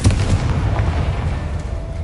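In Hogwarts Legacy, a Confringo fire spell bursts in a loud, close explosion with a deep booming thud that rolls into a fading rumble.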